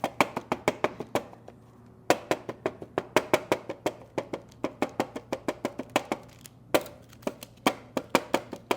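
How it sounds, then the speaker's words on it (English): A fork repeatedly piercing puff pastry for veggie tarts, producing a quick run of crisp, even taps in close clusters, with short pauses between groups. "I'm going to take this fork, and I'm just going to pierce where the egg isn't"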